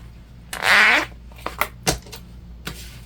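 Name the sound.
zipper being ripped apart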